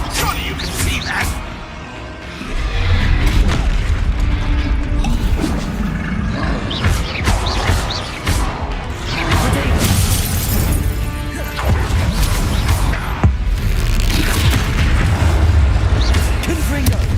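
Loud Bombarda blasting spell explosions boom and shatter in the Hogwarts Legacy video game, with crashing debris, whooshes and deep rumbling impacts layered over busy combat noise and some speech.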